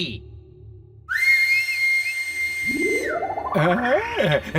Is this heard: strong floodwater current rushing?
no